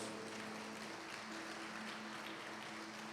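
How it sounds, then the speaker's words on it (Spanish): A church congregation applauds in a steady, distant wash of clapping, faint and even throughout, with a low steady hum beneath it. "Damos fuertes ofrendas de palmas a nuestro Dios"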